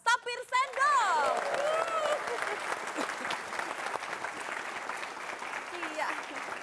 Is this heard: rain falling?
no